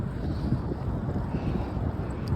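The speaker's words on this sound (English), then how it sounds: "It's a beautiful, windy day, Chesterfield County" Steady wind buffets the microphone on a windy day of cycling along a suburban path in Chesterfield County, Virginia, a continuous low rumble with no speech.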